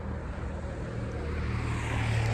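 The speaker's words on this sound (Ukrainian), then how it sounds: "ну що це таке? Вітер." Steady, blustery wind buffeting the microphone, a constant low rumble that swells slightly toward the end, with no voices.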